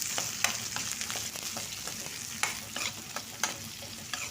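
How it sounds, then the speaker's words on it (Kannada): Crushed garlic and chopped onion sizzle and crackle in hot oil with mustard seeds for a ridge gourd curry tempering, a steady close frying hiss broken by sharp pops and spoon stirs. "ಹಾಕಿ ಒಂದು ಸ್ವಲ್ಪ ಫ್ರೈ ಮಾಡೋಣ"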